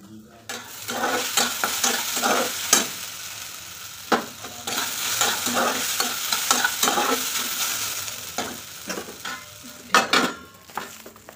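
Okra with onion and chilli frying in a pan, a steady sizzle broken by frequent scraping stirs and clinks of a utensil against the pan, close and busy with no voices.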